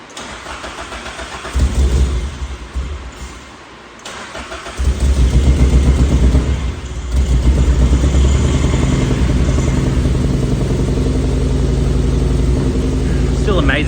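A Nissan Pulsar GTIR project car cranks and catches, then settles into a loud, steady running idle with a brief dip and rise in engine note, heard up close.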